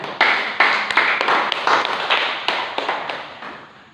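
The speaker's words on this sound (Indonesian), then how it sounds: "aplaus untuk kawan-kawan" Students clap together in a classroom, a steady burst of applause from a small group with sharp hand claps, fairly close and loud, gradually thinning out toward the end.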